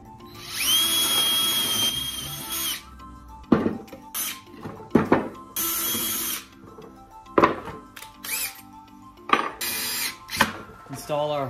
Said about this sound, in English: we're going to go ahead and drill through the whole board.